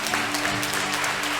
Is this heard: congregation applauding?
yes